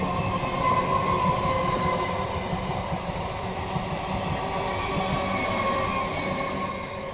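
A train runs steadily past near Naihati Junction station, a continuous rumbling wheel roar with metallic ringing tones holding at even loudness throughout, close by and with no voices.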